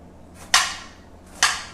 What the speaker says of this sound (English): so now I'm just going to go ahead and cut them up